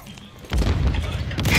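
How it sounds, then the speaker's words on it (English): A stun grenade goes off in a Call of Duty-style shooter game with a sudden heavy boom, followed by a sustained low rumbling burst that stays loud to the end. "Stun grenade out."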